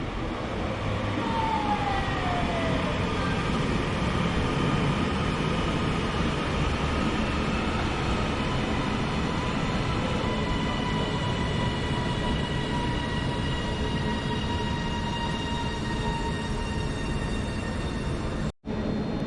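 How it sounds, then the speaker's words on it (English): A Class 331 electric multiple unit, unit 331027, rolls into Bolton station with a loud, steady rumble and sustained tonal whine, the noise holding strong throughout before a sudden brief drop at the end. "In comes the 1022 to Blackpool North, 331027."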